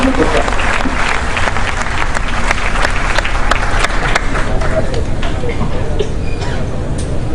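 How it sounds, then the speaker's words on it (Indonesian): A large audience at an evening talk in Indonesia applauds a speaker, loud dense clapping holding steady for several seconds with a faint voice now and then beneath it. "Tepuk tangan untuk Bapak Busro"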